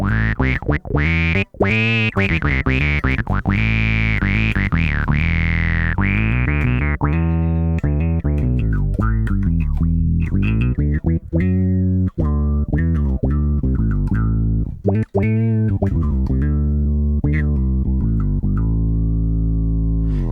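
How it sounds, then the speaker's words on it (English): Bass guitar played through a Keeley octave-down effect pedal, a deep doubled tone under each note, loud and close in a steady run of plucked notes and short phrases with no talking. "you can hear the octave down effect on that one"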